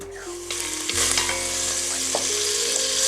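Butter melts and sizzles in a hot pot at the start of a risotto, as a steady, close frying hiss that grows louder after the first second and carries on with light crackles and no talk.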